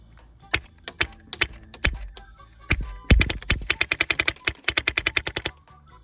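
A compact HPA airsoft light machine gun fed from a drum magazine fires close by: sharp single shots and short bursts, then a rapid rattling string of snappy pops, with no talk.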